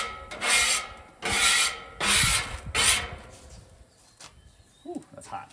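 Metal scraper rasping across a hot Nexgrill flat-top griddle, four loud scraping strokes in quick succession followed by quieter clatter and a faint squeak.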